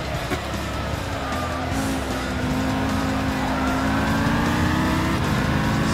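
Race cars including an Audi R8 and BMW M3 GTS racing in Gran Turismo 6, a loud continuous engine drone with rising and falling pitch, tire noise and other cars close by.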